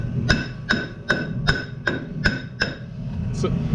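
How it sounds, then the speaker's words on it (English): Hammer blows strike rusty rear brake parts on a Fiat Ducato van, seven sharp metallic hits at a steady rhythm about every 0.4 seconds, close and loud over a low workshop rumble. "if I can hit that with a hammer, it sprays in your eyes every time"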